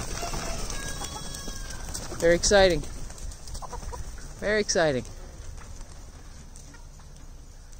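Farm chickens let out in the morning cluck and squawk in two loud, rising bursts close by, with quieter clucking around them and someone speaking briefly.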